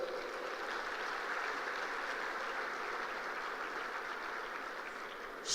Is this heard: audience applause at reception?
yes